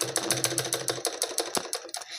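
A sewing machine stitches a blouse in quick, rhythmic bursts of needle clatter, close and clear with no talking.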